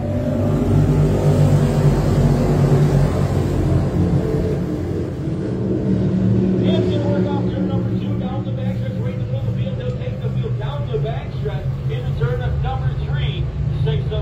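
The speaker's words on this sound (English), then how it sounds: "waiting for your leader, Remington Ham, to pound the throttle" Sportsman heat race cars rumble and roar together at a green flag restart, a loud, dense engine drone that builds as the field accelerates, with an announcer talking over it.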